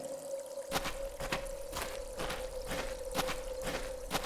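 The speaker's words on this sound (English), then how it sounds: "It's a natural well formed by the running water." Running water in a natural well in a point-and-click adventure game: a steady trickling, pouring stream with a constant tonal hum underneath and regularly spaced splashy pulses, at an even level throughout.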